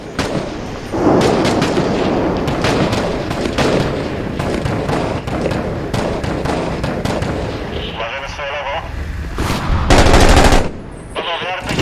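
Heavy gunfire from the video game Six Days in Fallujah, with dense rapid bursts and loud single shots running almost continuously, while voices talk over the battle.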